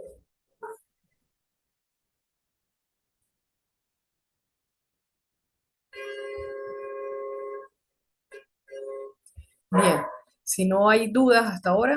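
A dog lets out a drawn-out whine or bark, then a few short yelps, in an indoor room, with someone speaking Spanish afterward.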